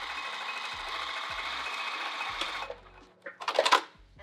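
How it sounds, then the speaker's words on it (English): A sewing machine stitches in the ditch of a seam, running steadily and fairly loud for about two and a half seconds before stopping, followed by a few short clicks and handling noises. "Sewing right in that ditch."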